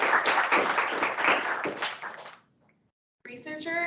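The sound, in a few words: audience applause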